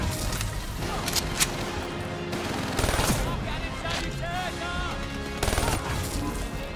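Rapid MG42 machine gun bursts in a Call of Duty Black Ops 3 battle, sustained dense gunfire with several louder volleys over continuous combat noise and game music, near and loud throughout.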